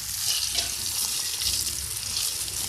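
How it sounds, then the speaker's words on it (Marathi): Bell peppers (capsicum) roasting in a hot pan give a steady, close, continuous sizzle and hiss that holds at an even level throughout, with no talking. "बघा असे छान भाजून घ्यायच्या मिरच्या"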